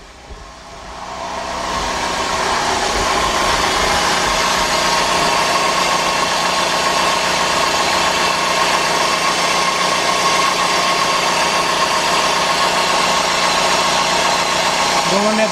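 A 2002 Dodge Stratus with the 2.4 engine starts and settles into a steady idle after a timing belt and water pump job, a constant close mechanical hum that holds evenly for over ten seconds.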